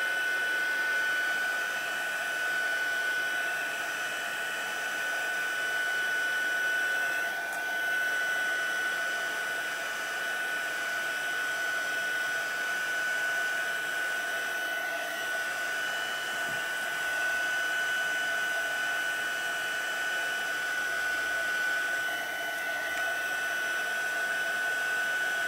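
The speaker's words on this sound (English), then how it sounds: "I'm just gonna dry that off with the heat gun" Heat gun blowing steadily over a watercoloured stamped card, a constant loud whirring hum with a fixed whine that holds unchanged for the whole stretch, with no talking.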